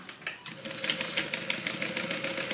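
Sewing machine stitching the seam of a Soraya divider bag, a close, fast, even rattle of needle strokes that starts up and runs continuously.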